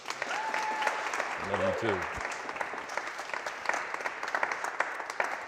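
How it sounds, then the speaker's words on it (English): A webinar audience applauds, a steady patter of clapping from a crowd that runs throughout, with a brief spoken reply from a man partway through. "Big round of applause for my bride."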